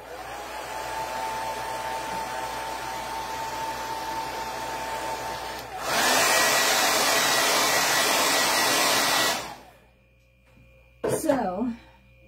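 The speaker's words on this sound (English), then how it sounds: "I'm going to dry this a little bit with the blow dryer" A blow dryer runs steadily beside a spray-inked towel, first at a lower hum, then jumping to a louder, brighter rushing roar for several seconds before cutting off, followed by a brief burst of sound.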